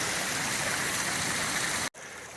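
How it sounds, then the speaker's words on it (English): A waterfall and stream flowing outdoors, a dense constant rush of water that stays loud and even, broken by one brief cut near the end before resuming; no talking. "this is another absolutely fantastic waterfall in its own right."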